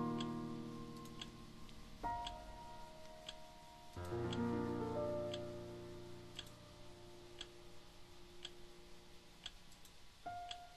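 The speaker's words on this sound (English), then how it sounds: "that explains the clocks in the house" Clocks tick steadily inside a house in the To The Moon game, a soft regular ticking heard under sustained gentle music whose chords shift every few seconds.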